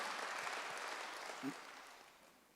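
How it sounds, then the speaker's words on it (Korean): A church congregation claps together in a steady patter of applause during a Sunday service, somewhat distant and fading gradually over a couple of seconds. "박수하세요"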